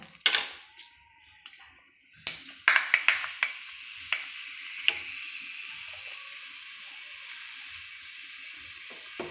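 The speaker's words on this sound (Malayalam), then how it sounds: "എണ്ണ നന്നായി ചൂടായി വരുമ്പോൾ കുറച്ച് ഉലുവ ഇട്ടെടുക്കുക" Fenugreek seeds fry in hot oil: a steady sizzle, with a burst of sharp pops and crackles that thins out into scattered snaps over a continuous fry.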